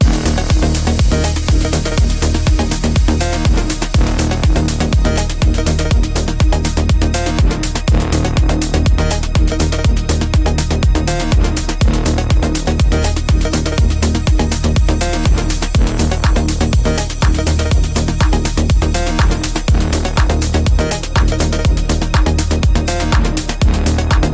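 The first drop of a dense, loud melodic techno track plays continuously, with a driving four-on-the-floor kick and full layered synths throughout.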